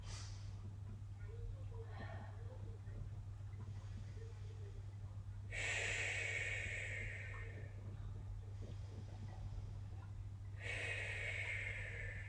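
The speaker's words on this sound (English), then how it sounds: "Breathe here." Breathing held in the Warrior Two yoga pose, two airy exhales rising out of a low steady hum of background noise, close but soft, with no talking.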